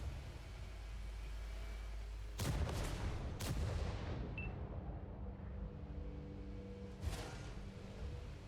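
Tank cannon shots from World of Tanks console play, a sharp booming blast near 2.4 seconds, another close behind, and a later one near 7 seconds, each followed by rumbling decay over steady engine drone.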